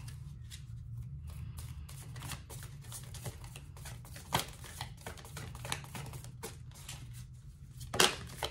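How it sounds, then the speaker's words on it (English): Oracle cards being shuffled and handled, a soft continuous riffling and flicking of card stock up close over a low hum, ending in a sharper snap as a card is pulled. "I'm going to pull some oracle cards here."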